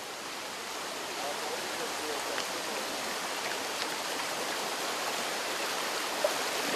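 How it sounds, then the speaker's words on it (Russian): Water flowing from a mountain spring in Chechnya, with a cup-shaped vessel dipped in to scoop from it, gives a steady, even rush of running water throughout, with only a few faint splashes rising above the constant flow. "Сейчас мы черпаем воду."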